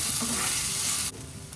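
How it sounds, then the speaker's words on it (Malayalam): Chopped onions hit hot oil with a loud, dense sizzle that drops sharply in intensity about a second in, then settles into a quieter, steady fry. "കുറച്ച് ഉള്ളി കട്ട് ചെയ്തത് ഇട്ട് കൊടുക്കുക."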